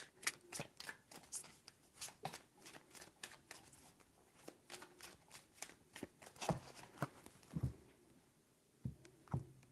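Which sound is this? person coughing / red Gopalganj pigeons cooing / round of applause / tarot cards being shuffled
tarot cards being shuffled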